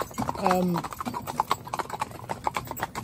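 A four-in-hand team of horses moves off, hooves clip-clopping in a quick uneven rhythm at close range, with a brief whinny-like sound early and a voice speaking over the hoofbeats.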